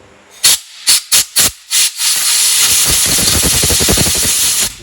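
Compressed air blows out a flywheel repair on a 1968 El Camino: five short loud bursts, then one long continuous rushing blast close by.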